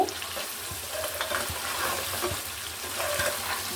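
Duck meat masala sizzles steadily in oil in a home cooking pot, a continuous hiss broken by occasional soft stirring scrapes, close and moderately loud with no talking.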